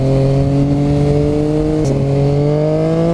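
A 2015 Yamaha FZ-09 (MT-09) motorcycle engine hums loud and close while riding, its pitch climbing steadily under acceleration with a brief shift-like step midway, no talking over it.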